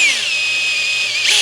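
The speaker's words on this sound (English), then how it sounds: "And I'm going to drill it all the way through." A power drill bores a small crack-stopping hole straight through cast aluminum, giving a steady high whine that holds evenly, then shifts briefly near the end.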